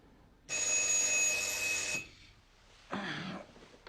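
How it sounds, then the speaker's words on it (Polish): A front-door electric doorbell rings steadily for about a second and a half, then falls silent; a shorter, softer ring follows after a pause. "u drzwi wejściowych znów rozległ się dzwonek"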